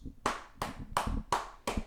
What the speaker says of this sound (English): So everybody give Mac Jones round of applause.